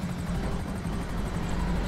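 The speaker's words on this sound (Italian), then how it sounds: "Ma perché non scende sto elicottero di merda?" A helicopter in the video game Grand Theft Auto V gives off a steady, loud rotor drone with a fast rhythmic chop that holds throughout, with no talk over it.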